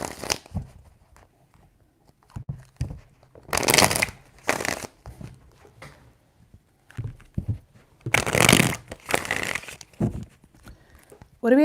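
Tarot cards are shuffled in several distinct bursts of crisp riffling, close and clear, separated by quiet pauses.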